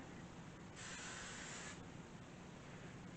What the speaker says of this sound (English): take a loaf pan here and spray it with some coconut oil